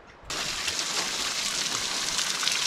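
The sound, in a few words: waterfall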